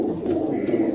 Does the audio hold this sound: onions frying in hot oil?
no